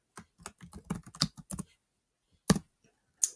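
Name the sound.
typing text on a computer keyboard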